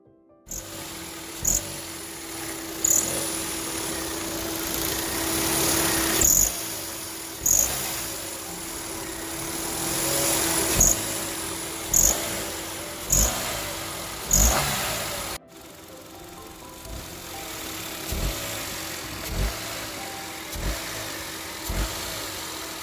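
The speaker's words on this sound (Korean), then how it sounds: "발전기의 오토풀리, 벨트, 그리고 아이들 베링 교환 전과 교환 후의 소음을 비교해서 들어보겠습니다" A running Kia Morning engine with a steady whine and rhythmic ticking or slapping from a worn alternator auto pulley, belt and idler bearing at regular intervals, close up, tone changing partway through as before and after replacement are compared.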